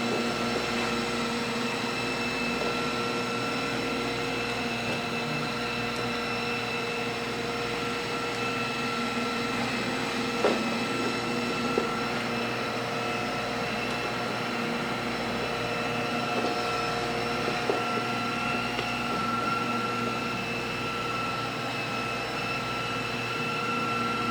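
A rotary buffer polishes car paint at low RPM, giving a steady, even motor drone with a hum, held close and constant throughout, with no voices.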